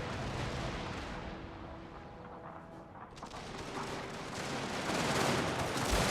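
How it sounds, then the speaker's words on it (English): Artillery fire in a Prussian-era strategy game battle, a dense, continuous rumble of distant cannon blasts and gunfire that swells louder toward the end, with no speech. "the artillery is aiding a little bit in this fight"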